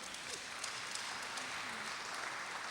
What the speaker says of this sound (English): so you should clap for yourselves